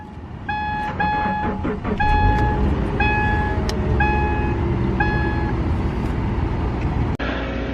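A car in cold winter weather cranks and starts, preceded by a series of regular dashboard warning chimes and a low rumbling background, with a sharp click near the end as the engine catches.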